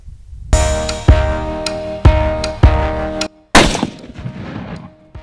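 Several loud, close rifle gunshots fired at a shooting target, spaced about a second apart, each a sharp crack with a ringing decay, the last one noisier and followed by fading echo.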